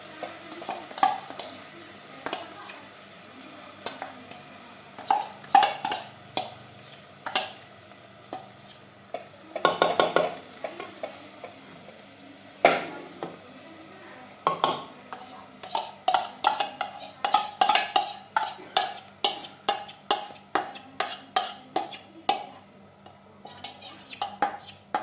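Spiced pulao is stirred in a pot off the heat with repeated sharp scrapes and knocks of a spoon against the metal. The clatter comes in irregular bursts, growing into rapid strokes near the end, over a faint sizzle.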